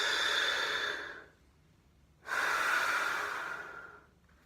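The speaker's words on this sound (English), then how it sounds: "do the 3 chamber breathing, bottom, middle, upper, and then some with resistance" A trombone player takes a slow, deep breath in and out against a cupped hand held to the mouth for resistance, two long airy rushes separated by a pause, close and alone.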